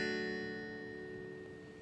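A single acoustic guitar chord from a song's intro rings out and slowly decays, sustained and fairly quiet with no talking.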